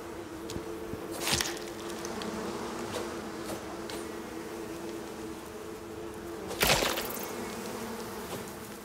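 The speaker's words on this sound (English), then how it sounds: "Come on, bees. It's like they know what's happening." Bees buzzing in the survival video game Icarus, a constant droning hum close by, with two sharp louder swishes or impacts cutting through the buzz.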